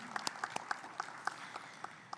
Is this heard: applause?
yes